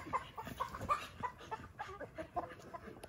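Chicken clucking on a farm while a dog chases it, faint scattered squawks and clucks amid rustling and background noise, with no clear talk.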